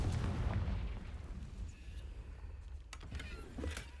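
A Confringo blast spell fires in Hogwarts Legacy as a loud booming impact that decays into a rumbling tail, followed by faint sharp crackles.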